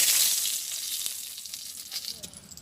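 Two bay leaves sizzle in hot oil left over from frying fish in a wok, a loud bright hiss at first that gradually softens into steady crackling.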